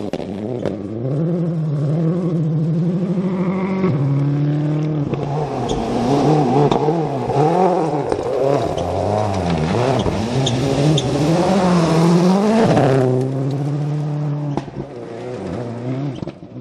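Ford Focus World Rally car on a forest rally stage at the Malcolm Wilson Rally 2013, its engine loud and close, revving hard through repeated gear changes and rising and falling pitch before fading as it passes.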